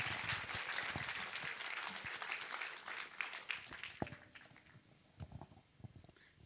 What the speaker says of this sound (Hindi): थोड़ी अपनी तालियों की गड़गड़ाहट की आवाज तो दिखाइए